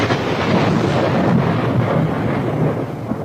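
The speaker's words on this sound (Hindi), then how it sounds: "तभी बिजली कड़की।" A thunder crack in a cartoon horror story erupts as a dense, loud rumbling roar that fills the whole moment and barely fades, with a rolling, stormy texture and no voices.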